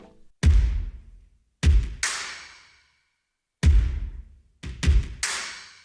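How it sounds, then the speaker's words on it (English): Big, booming dubstep drum samples land in an irregular pattern, about seven strikes, each with a long resonant decay and silence between groups. "This is what I call the big drums."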